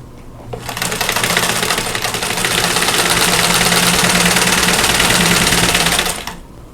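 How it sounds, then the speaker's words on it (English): Sewing machine stitching quilt rows together, a loud, steady mechanical whirring run of about six seconds, close up, starting and stopping cleanly. "I'm going to sew the rows together"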